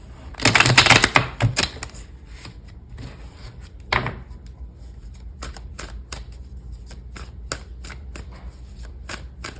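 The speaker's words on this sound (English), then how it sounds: "let me give it a quick" A tarot deck is shuffled up close, beginning with a dense burst of riffling, then a softer flurry, then a string of scattered taps and card slaps.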